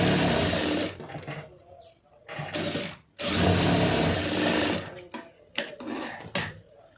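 A sewing machine stitches the lined shoulder seam of a blouse, running in loud bursts that stop and restart several times over a few seconds, close up with no talking.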